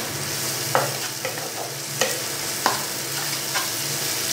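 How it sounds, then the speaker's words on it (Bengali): Spice paste seasoned with salt and a little sugar frying in a pan for a Bengali prawn curry, a continuous close sizzle broken by several sharp spatula scrapes at uneven intervals, no voices. "ভালোভাবে মশলাটাকে একটু এক মিনিট একটু ভেজে নেব।"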